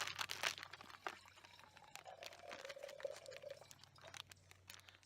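Water pours into a backpacking chili mac meal pouch outdoors, a faint gurgling trickle amid crinkling packaging, with no voices.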